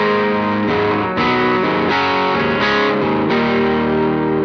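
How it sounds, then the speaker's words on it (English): Electric guitar played straight into a Line 6 amp set to its AC30 model, with loud, sustained, driven chords that change every half second or so and ring continuously without any talking. "And so the guitar straight into the amp sounds like this."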